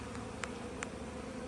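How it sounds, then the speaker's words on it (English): Honey bees buzz steadily from a package of bees being installed into a hive, forming a faint, constant drone with two brief clicks from the package. "shake out these bees."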